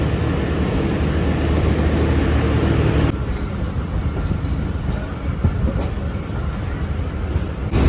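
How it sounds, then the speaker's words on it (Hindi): Passenger train travelling from Rawalpindi to Karachi in heavy rain, heard from inside the carriage as a steady loud rumble of wheels on rail that drops slightly in level partway through and then carries on. "सिर्फ ज़रा सी बल्कि स्लो हुई ट्रेन और उसके बाद चल पड़ी"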